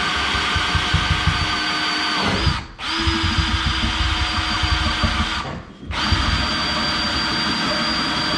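Power drill driving a 24mm bit through a thermalite block, a loud steady whine that stops briefly twice and restarts, with no talk.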